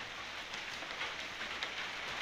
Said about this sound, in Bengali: হ্যালো গাইস, দেখুন বৃষ্টি কিরকম দেখুন।